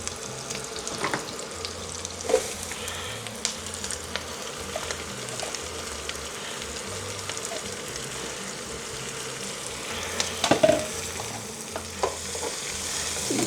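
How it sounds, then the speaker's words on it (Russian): Onion and leek sizzle gently in a pan for leek and potato soup, a soft continuous frying crackle with occasional stirring clinks and scrapes, no talking. "И слегка пережарим."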